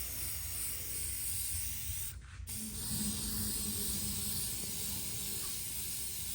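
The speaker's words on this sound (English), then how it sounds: "I am going to do a couple coats of shellac to act as a primer to bond my paint" Shellac primer sprayed onto small canisters, a continuous close, broad hissing spray with one brief pause midway before the hiss resumes steadily to the end.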